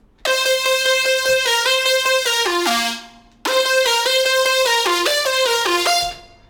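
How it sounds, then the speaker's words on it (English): A main synth lead built in Xfer Serum for a track plays two loud, bright descending melodic phrases of sustained harmonic-rich notes, each stepping down over about three seconds, with a short gap between them and no talk. "So let's start with the main lead sound."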